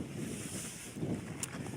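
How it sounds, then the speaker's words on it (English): Steady outdoor wind gusting at a shooting range, around 5 to 15 miles an hour, buffeting the microphone as a broad, constant rush with slight swells in strength, no voices or shots heard. "the wind is about 5 to 15 miles an hour with certain gusts"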